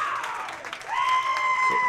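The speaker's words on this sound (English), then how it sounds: "Oh, the crowd is active now." A crowd applauds and cheers at a high school girls basketball final, a steady wash of clapping with a high whistle-like tone running through it.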